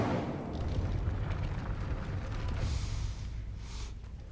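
A fire spell cast in Hogwarts Legacy gives a sustained roaring whoosh of flame with a deep rumbling body, steady and loud for several seconds before easing off.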